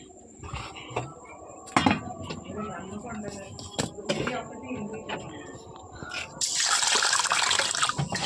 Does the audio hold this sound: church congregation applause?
no